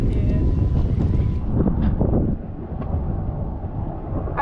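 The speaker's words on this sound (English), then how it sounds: "it is super windy out here" Strong wind buffets the microphone out at sea on a fishing boat, a loud low roaring rumble that eases slightly midway, with faint voices mixed under it.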